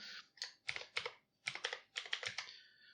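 Typing on a computer keyboard while writing a Python program, in short bursts of quick key clicks with brief pauses between, close and clear with no talking.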